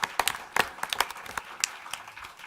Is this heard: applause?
yes